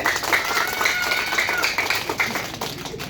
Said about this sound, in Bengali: তাদের জন্য একটা হাততালি দেওয়া যায়